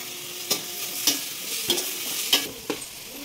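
Eight eggs and tomato fry in hot oil, a soft continuous sizzle broken by about six sharp stirring scrapes at regular intervals.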